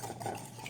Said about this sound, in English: I'm just using a whisk here, and I'm just going to mix together these wet ingredients